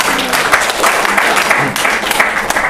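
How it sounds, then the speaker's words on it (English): A small audience gives a round of applause after a project kick-off presentation. Individual claps stand out within a moderately loud, slightly uneven patter, and faint voices mix in underneath. "we can give a small round of applause for Anna."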